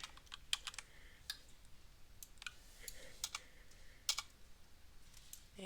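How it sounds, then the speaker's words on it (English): Typing on a computer keyboard, a quiet scatter of close, crisp key clicks in irregular bursts over near-silence, with no talk. "My goodness, typing is hard."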